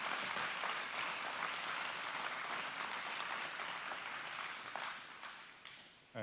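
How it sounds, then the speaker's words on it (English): Sustained audience applause fills a county planning commission meeting room, a dense wash of many hands clapping steadily for about six seconds before tapering slightly near the end. "I appreciate the applause"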